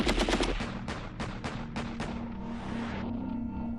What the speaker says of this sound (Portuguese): O israelense mira a sua Kalashnikov. A metralhadora não tem silenciador.